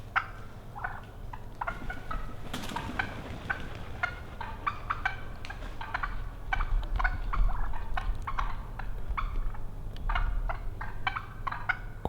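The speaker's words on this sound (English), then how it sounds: "That's that nervous clucking." Roosted wild turkeys clucking nervously in Ontario woods during a whitetail bowhunt, a steady run of sharp, irregular clucks and putts at moderate distance over quiet outdoor ambience, no voices.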